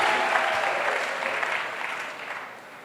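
A church congregation at a golden jubilee service applauds to acclaim the Lord, a steady, full crowd clapping that slowly fades toward the end.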